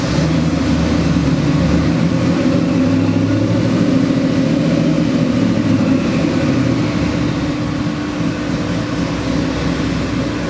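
A Whipple-supercharged 416 ci LS crate engine runs continuously, loud and close, with a deep, steady droning rumble and no voices over it.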